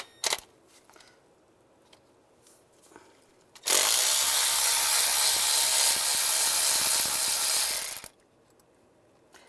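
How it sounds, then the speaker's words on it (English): A ratchet with an 8 mm socket backs out valve cover bolts on a 2007-2013 Chevrolet Silverado 1500, a loud, rapid, continuous clicking burst lasting about four seconds, set between stretches of near silence with faint handling noises. "Now we're going to take the valve cover bolts out using an 8 millimeter socket."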